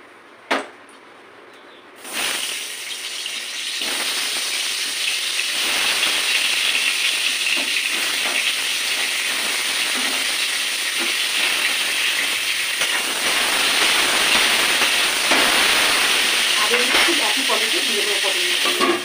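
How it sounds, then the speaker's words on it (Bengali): Potatoes frying in hot oil beside pointed gourd, a steady loud sizzle that starts after a short quiet opening and runs on alone with occasional stirring clinks. "এবার আলুগুলো ভেজে নেবো।"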